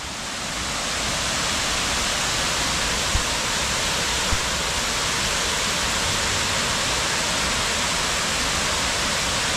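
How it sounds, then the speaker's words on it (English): Roar of a spectacular multi-tiered waterfall in Kanchanaburi, Thailand: a dense, constant broadband rush of falling water, loud and steady throughout, with no voices. "there truly is a spectacular waterfall"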